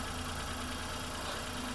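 A motorcycle engine with an NGK Laser Iridium spark plug idles close by with a steady, even rumble that holds unchanged throughout, with no talking.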